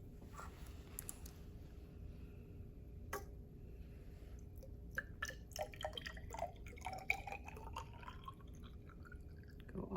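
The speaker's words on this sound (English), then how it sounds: "I'm gonna pour silver nitrate into the test tube with copper wire" Silver nitrate solution is poured into a test tube holding copper wire, giving faint, scattered drips and small splashes that cluster near the end over a low steady hiss.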